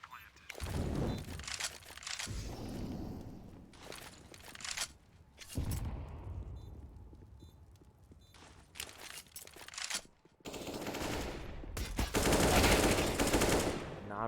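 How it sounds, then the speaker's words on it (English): Gunfire in a Counter-Strike match on de_nuke, including a P2000 pistol, comes in repeated bursts and single shots alongside footsteps, with commentators talking over much of it. "Shutout does get a P2000 kill there in ramp."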